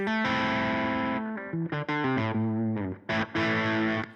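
A gritty, overdriven electric guitar with its volume rolled back and the Tube Screamer off plays sustained chords and short bursts of notes, thick with distortion and a slight chorus shimmer, loud and up front.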